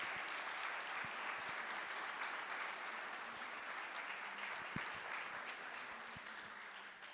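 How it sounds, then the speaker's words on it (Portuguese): Audience at a literary festival in Curitiba applauds a writer being honored, a dense, steady round of hand clapping lasting several seconds, continuous and even, fading slightly toward the end. "queria pedir mais uma salva de palmas para o nosso escritor"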